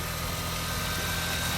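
A supercharged R53 Mini Cooper S with a reportedly flood-damaged history idles steadily, a close, even low engine hum with a faint whine, continuous and without talk.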